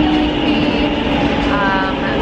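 A metro train rumbles loudly through an underground station in Barcelona, a dense continuous roar with a faint high tone rising near the end, and a voice is heard under the noise.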